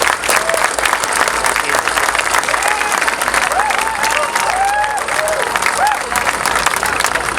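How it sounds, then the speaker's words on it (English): A large audience applauds, a dense, loud, continuous wash of clapping with scattered cheers and voices rising over it. "thank you, give them a round of applause."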